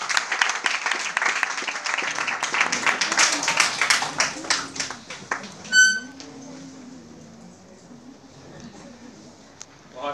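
A live audience breaks into dense, lively clapping after a song performance, and the applause thins out and fades over several seconds as a voice begins speaking over it.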